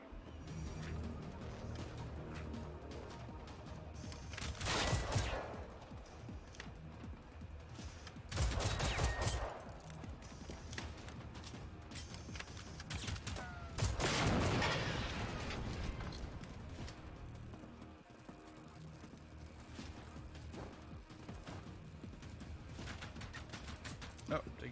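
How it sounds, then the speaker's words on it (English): Gunfire in Generation Zero, several bursts of loud sharp shots clustered in bouts at intervals, with mechanical clatter and quieter stretches between, and a voice speaking occasionally. "Shots."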